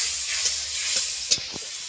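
Koi fish curry gravy with spices and a little water bubbling in a pan, a continuous bright hiss with a couple of brief pops, close by and steady.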